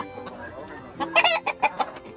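A fighting rooster on a farm in Ponce, Puerto Rico, gives a quick series of loud, close clucks and a short crowing burst after a quieter opening.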